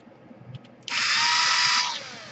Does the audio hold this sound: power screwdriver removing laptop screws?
yes